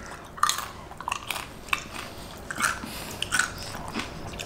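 Close, crunchy bites and wet chewing on carne asada fries topped with shrimp and Cheetos, a series of irregular crisp crunches repeated over a few seconds with no talk.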